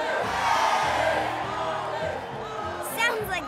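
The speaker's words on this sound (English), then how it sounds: "crowd goes wild!" A crowd cheers and whoops after a race in a children's cartoon, the roar loud and sustained, with voices talking over it and a brief high squeal near the end.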